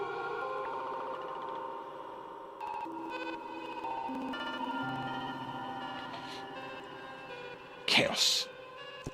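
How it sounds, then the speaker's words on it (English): Korg NTS-3 Kaoss Pad synth playing a sustained, shimmering tone washed in a spacious space reverb, layered pitched notes drifting and echoing, with a brief loud swelling burst near the end. "So this is the space reverb we've applied on this."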